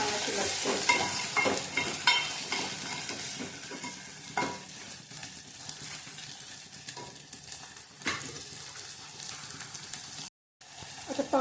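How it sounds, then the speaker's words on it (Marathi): Fresh field beans (pavte) roast in hot oil, giving a soft, continuous sizzle and crackle with scattered stirring scrapes, fairly quiet and close, briefly cutting out near the end. "1 मिनिट तेलात चांगले पावटे भाजून घ्यायचे"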